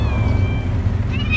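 A hungry, sick stray cat gives a loud, close meow, a drawn-out tonal cry near the start followed by a second rising call near the end.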